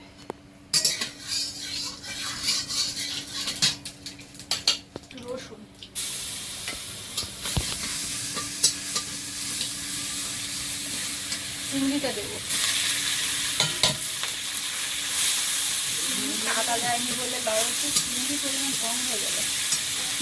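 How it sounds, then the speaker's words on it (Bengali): Nigella seeds (kalo jeere) fry in hot oil in a pan with a continuous close sizzle. A spatula scrapes and clinks against the metal pan throughout, and the sizzling grows denser and louder toward the end. "তেল দিলাম একটু কালো জিরে তেলের মধ্যে"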